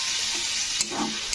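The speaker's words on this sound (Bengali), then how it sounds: "তো মিক্সির জারটা ধুয়ে কিন্তু জলটা দিয়ে দিলাম" Water from a rinsed mixer jar poured into a hot pan of vegetables cooked with mustard paste, a loud hissing sizzle with a sudden burst of bubbling steam near the end.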